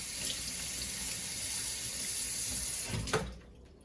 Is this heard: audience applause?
no